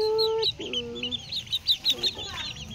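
Bantam chickens cluck and peep softly at close range while they feed. Short, bunched calls come in quick bursts with a few higher chirps, and there is no talking.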